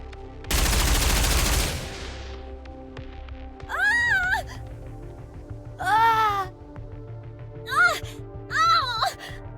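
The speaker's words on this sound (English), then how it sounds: "An experimental suppression round developed for Anichiro." Experimental suppression rounds fire in the game Goddess of Victory: Nikke: one loud, broad burst lasts about a second, then several short, rising, whistling tones come and go with quieter gaps between them.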